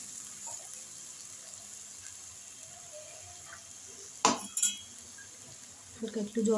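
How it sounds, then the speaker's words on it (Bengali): A little water splashed into a spice mixture in a hot pan, two quick hissing bursts close together rising out of a quiet kitchen background, followed by a faint renewed sizzle. "হালকা একটু জল দেবো।"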